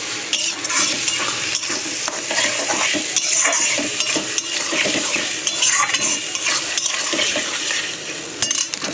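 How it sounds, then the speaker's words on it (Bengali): Spice paste for chicken curry, thinned with a splash of water, is stirred and fried in a pan, producing a loud, continuous sizzle with constant scraping and clanking of a spoon against the metal, close up. "এর মধ্যে মশলার বাটি ধোয়া জলটা একটু দিয়ে দেবো, দিয়ে মশলাটা ভালো করে কষিয়ে নেব"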